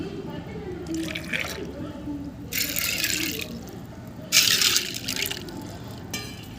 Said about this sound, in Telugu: ఈ నాలుగిట్లో వాటర్ పోసుకోవాలి